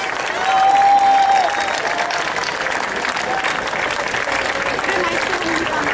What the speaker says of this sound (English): Let's have a round of applause for these esteemed leaders.